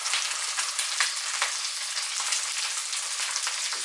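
Salmon frying in a hot pan, with a dense continuous sizzle and crackle heard up close and steady throughout, with no voices.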